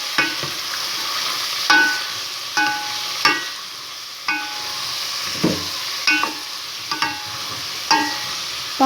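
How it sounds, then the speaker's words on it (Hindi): Mixed vegetables are lightly sautéed in a pan, a steady soft sizzle punctuated by regular scraping clicks of a spoon stirring every second or so, close and without talk. "ज़्यादा बनाना नहीं है, हल्का हल्का सा सोते करना है।"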